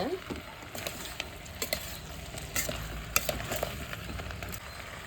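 Chayote and mixed vegetables stirred together in a pan for a dry South Indian curry: scraping spatula strokes and light stirring clatter over a steady low sizzle, close and moderately quiet, with no talking.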